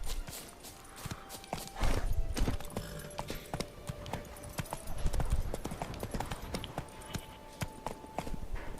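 Steady clip-clop of horse hooves trotting at a quick rhythm in the video game The Witcher 3: Wild Hunt, fairly faint, with soft background ambience and occasional tones.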